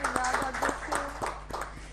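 An audience claps in a quick, even rhythm to welcome guests, with sharp, regular hand claps over a faint steady hum and no voices.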